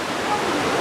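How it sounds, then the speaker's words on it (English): Cheonjeyeon waterfall in Jeju, Korea roars as a steady, loud wash of falling water, close by and unbroken. "this must be waterfall number 2, but I'm just walking past it"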